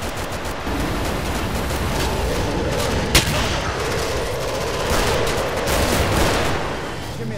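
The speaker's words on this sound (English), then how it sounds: "Oh shit, that's a flashbang." Flashbang grenade detonating in the Killing Floor co-op shooter, one sharp loud burst near the middle of a dense, continuous roar of nearby gunfire that runs throughout.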